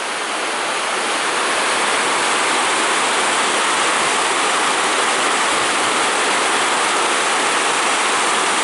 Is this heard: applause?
no